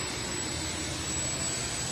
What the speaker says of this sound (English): The Allison here, Mustang Legacy, going to be our final tractor here.